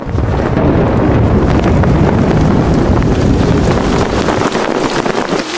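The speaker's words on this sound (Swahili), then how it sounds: "radi ikaanza kunguruma na upepo mkali ukavuma" Loud, continuous storm wind roars and buffets without a break, heavy and close throughout, with no distinct thunderclap standing out.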